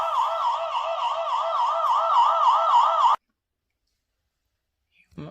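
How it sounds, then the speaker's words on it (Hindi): The alarm siren of a Ranger 2 security camera, triggered by human detection, wails in a fast warbling loop for about three seconds and then cuts off abruptly, leaving near silence. "ये जी ह्यूमन डिटेक्शन के ऊपर होने वाला सायरन"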